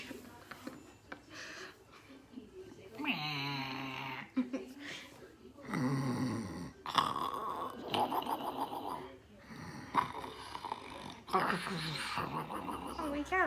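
A person imitating snoring with a voice, making rough, wheezy snore-like breaths and snorts in several bursts, close and fairly loud, mixed with chatter and laughter from people nearby.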